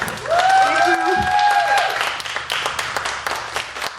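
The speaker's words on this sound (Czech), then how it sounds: "teď bude velký potlesk" Festival audience claps for a film set designer at the close of a talk, a short burst of applause over which a voice and a tonal, music-like sound are heard early on, thinning into scattered claps.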